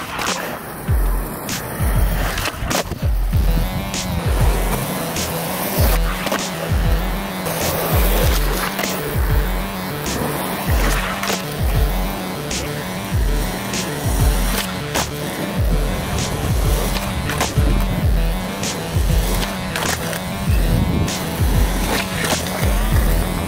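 A skateboard rolls across flat ground with repeated sharp pops and landings as fakie and nollie tricks are attempted, a steady rhythm of wheel rumble and clacks close by.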